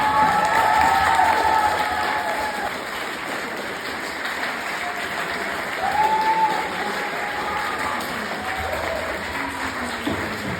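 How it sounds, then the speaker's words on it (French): A talent show audience claps loudly and steadily, a dense wash of applause with some cheering and a few shouted voices rising through it, holding for several seconds. "Sous un tonnerre d'applaudissements."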